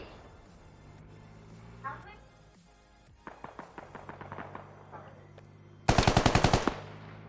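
Gunfire in the video game Squad: faint scattered shots, then a rapid string of automatic fire, ending in a loud close burst of about seven quick shots, with a low background rumble.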